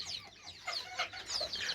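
Chickens cluck and chatter close by in short, overlapping bursts, with no talking.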